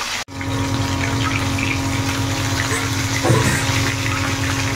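Loud, steady whirring of a room fan, filling a kitchen where fish is deep-frying in oil, with a constant low hum and broadband rush and one brief dropout near the start.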